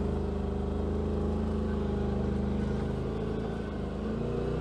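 A 2018 Polaris RZR Turbo fitted with an Assassins S2 clutch kit crawls in low gear at low RPM, giving a steady, close, deep engine rumble with an even idle-like throb and no talk.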